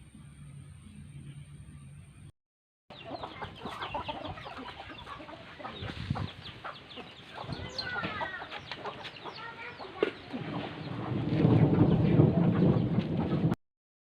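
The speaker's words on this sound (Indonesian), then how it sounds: "dokumentasi dari perilaku ayam" A flock of chickens clucks and murmurs continuously, with scattered sharper calls, the chatter building louder and busier toward the end.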